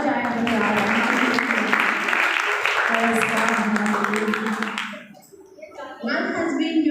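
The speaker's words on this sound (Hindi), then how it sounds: "जोरदार तालियां बजाएं हम तैयार हैं" A congregation applauding loudly at a one-day church seminar, the dense clapping holding for about five seconds before fading, after which a speaker's voice comes in.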